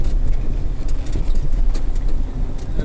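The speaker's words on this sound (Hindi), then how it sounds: "अभी साथ में मैं ड्राइविंग भी कर रहा हूँ ना" Car engine rumbling steadily while driving through a petroleum pipeline area, with road noise and occasional small rattles and knocks throughout, loud and close.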